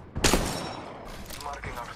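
A short burst of close gunfire in the battle royale shooter Apex Legends: a loud rapid volley, then fainter trailing shots and mechanical clatter.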